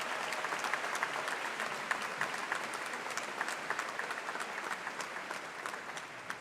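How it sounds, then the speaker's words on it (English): Graduation ceremony applause: a crowd claps steadily and densely for the whole stretch, an even, unbroken patter heard at moderate level with no speech over it. "Let's give them a well-deserved round of applause."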